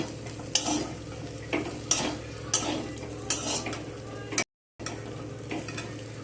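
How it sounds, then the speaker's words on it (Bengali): Drumsticks and potatoes stirred with spices in a frying pan, rhythmic spoon scrapes against the pan over a low sizzle, with a brief silent gap partway through. "মশলার সাথে আর সজনে ডাঁটা আলু একসাথে সব কিছুকে ভালো করে 2 মিনিট নাড়াচাড়া করে নেব"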